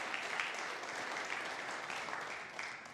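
Applause from a church congregation welcoming a visiting mother and younger brother at a Sunday worship service; steady, dense clapping fills the full three seconds at moderate distance.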